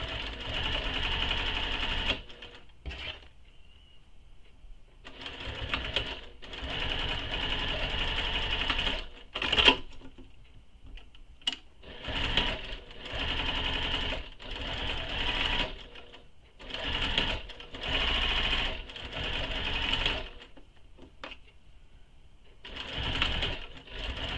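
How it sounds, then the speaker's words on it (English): A sewing machine top stitching down the length of backpack pieces, running in loud steady bursts separated by short pauses, with no voice. "just top stitching down the length of all three."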